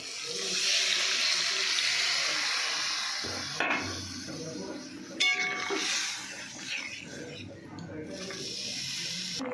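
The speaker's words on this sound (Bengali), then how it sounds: "এবার আমি জল ঢেলে দেবো" Water is poured into a cooking pan of sautéed crab curry base, a steady splashing gush running for several seconds, close and fairly loud, with a few clanks and some talking mixed in.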